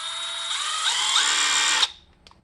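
A cordless power drill runs with its trigger only partly squeezed, a loud, close whine that wavers slightly in speed, then cuts off and winds down into near silence.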